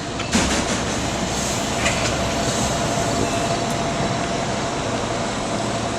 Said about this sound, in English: A Northeast Regional, heading southwest.